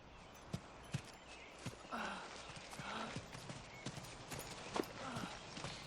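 Horses being gathered on open ground in a Western setting, hooves clip-clopping in a steady, moderately close rhythm at low volume, with scattered voices and a faint whinny among them.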